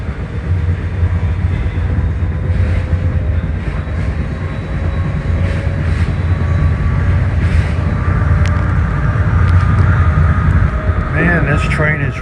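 A PATCO rapid-transit train rides roughly toward Woodcrest Station, its steady interior rumble loud and unbroken, with rattling and clanking throughout and squealing metallic tones near the end.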